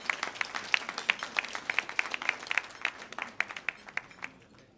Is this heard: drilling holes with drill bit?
no